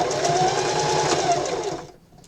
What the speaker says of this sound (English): Back stitching at the beginning and the end.